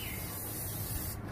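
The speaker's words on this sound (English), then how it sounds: "Really nothing to it, just spray it down." A spray bottle mists the inside of a 250-gallon offset smoker during initial seasoning, giving a steady close hiss that runs unbroken for over a second before cutting off.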